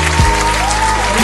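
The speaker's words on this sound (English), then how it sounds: "Let's clap it up for Friday." Studio crowd clapping on a morning talk show, a steady burst of applause lasting about a second, close and fairly loud with a little talk underneath.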